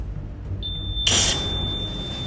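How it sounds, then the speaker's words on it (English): A REM pod ghost-hunting device gives a faint tone, then a louder shrill electronic beep that rings for about a second in a quiet room. "can you make the REM pod beep for me?"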